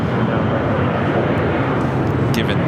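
A jet airplane roaring on takeoff at LAX, a loud continuous broadband engine rumble close by throughout, with no clear speech.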